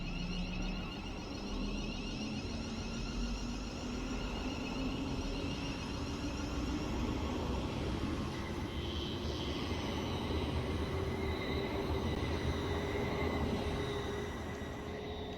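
A London Midland electric train in Train Simulator on the West Coast Main Line south from London Euston to Bushey hums and whines steadily, its rising motor tones gliding upward over continuous rolling wheel rumble.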